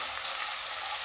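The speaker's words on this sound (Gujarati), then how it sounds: "થોડીક વાર આપણે આ રીતે તેલમાં ફેરવશું, સેજ લાલ થાય એવું લસણ. હવે આપણે આમાં લીલા મરચા નાખી દઈશું" Garlic sizzling steadily in hot oil in a pan as green chillies go in for a dal palak, a continuous close hiss of frying with no voices.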